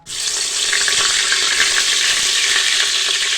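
Brinjals tipped into hot oil in a pressure cooker sizzle and fry, a loud, steady hiss that begins abruptly and holds with faint crackles for a few seconds, no voices.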